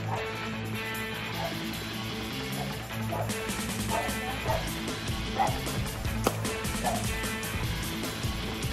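A dog barks repeatedly, short sharp yaps scattered over several seconds amid a busy, noisy background with clattering and voices.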